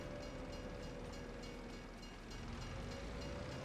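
A train rolls past in the Farming Simulator 25 video game, a steady, faint rumble with a continuous rail drone and no voices.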